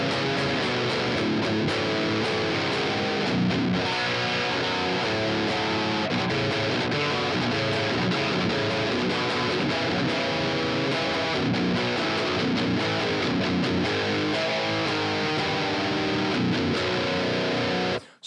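Heavy distorted electric guitar played through a Friedman amp with a Mesa cabinet impulse response, low cut at 100 Hz and high cut at 10 kHz: a thick, dense, continuous riff at full level for about eighteen seconds, no talking.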